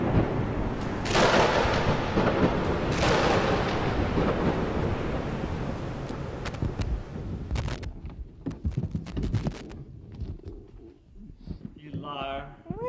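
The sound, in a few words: tropical storm thunder sound effect in a performance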